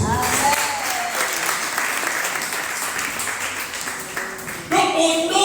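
Congregation applauding during a church worship service, a dense steady wash of clapping throughout, with voices mixed in and a louder burst of applause and cheering near the end.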